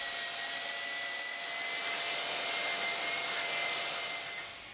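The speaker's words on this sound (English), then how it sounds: "I trim the edge, first with the planer" A power planer or sander trimming the edge of a wooden Aleutian-style kayak paddle gives a steady, loud, high-pitched motor whine with a faint tonal hum that swells slightly and then tapers off at the end.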